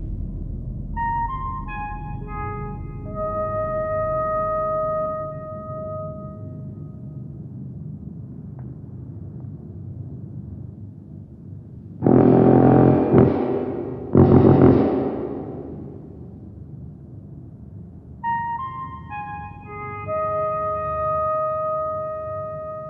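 Sustained pure tones sound in layered chords over a low hum, fading out, followed by two loud noisy bursts, then the tones return.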